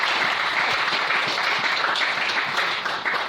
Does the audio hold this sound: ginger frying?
no